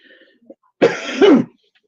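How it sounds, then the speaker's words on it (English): Dry cough and throat clearing from a woman at home, a short harsh burst followed by a rasping clear, close and loud, with faint murmuring beforehand. "I've got a dry cough"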